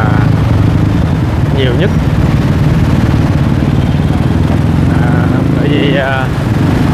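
Dense Saigon street traffic of motorbikes, mostly Honda, a steady engine rumble with occasional horn toots, heard under continuous talking.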